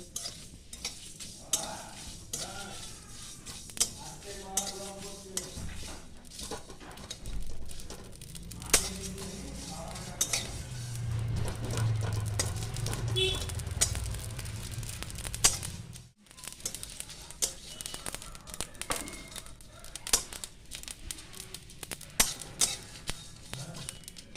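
Cinnamon and five cardamom pods dry-roasted lightly in a pan, with steady scraping and stirring, light clinks of a utensil against metal, and a soft sizzle through the middle, close up with no talking.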